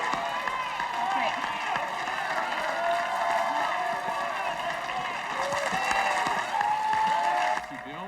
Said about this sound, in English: let's give Bill a big round of applause.